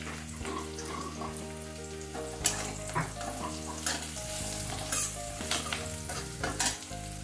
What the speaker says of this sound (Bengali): পেঁয়াজ কলিটা একটু নরম হয়ে ভাজা ভাজা হয়ে যাচ্ছে।